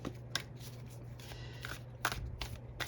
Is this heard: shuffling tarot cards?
yes